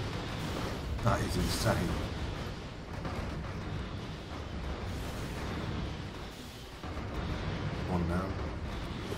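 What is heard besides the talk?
ship guns firing in space battle in video game Stellaris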